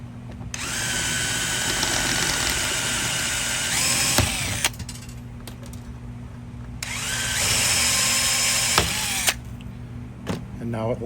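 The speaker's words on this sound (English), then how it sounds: "Get a drill with a 3/16 drill bit and drill the rivets out" A power drill with a 3/16 bit drills out rivets during a 48-volt battery installation, whining loudly and steadily in two long bursts that slow and wind down, with sharp clicks and a low background hum.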